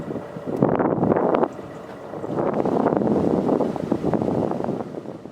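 Gusty wind buffets the microphone aboard a narrowboat cruising the Glasson Branch of the Lancaster Canal, a low, rumbling roar that surges in two long waves with a brief lull between, no voices.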